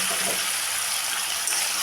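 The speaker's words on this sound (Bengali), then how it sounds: "পেঁয়াজটাকে একটু ভেজে নেব" Two medium onions sizzle and fry in hot oil, giving a steady, close, even crackling hiss that runs unbroken with no talk over it.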